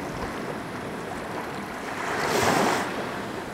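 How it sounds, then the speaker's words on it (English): Waves rolling in on St Helens beach, a steady close wash of surf with wind buffeting the microphone, swelling into a louder breaking rush near the end before easing back. "the waves themselves coming in."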